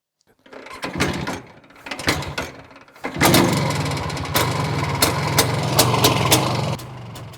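An Izh Planeta 2 motorcycle kept in a garage collection starts up after a few clanks and rattles, then runs at a steady loud idle with a rough, throbbing rumble before cutting off near the end.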